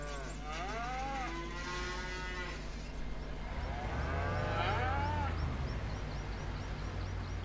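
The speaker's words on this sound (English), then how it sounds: "Try and avoid the cows." Hereford cattle mooing in the Farming Simulator 25 video game, with several drawn-out moos from different animals overlapping over a steady low engine drone.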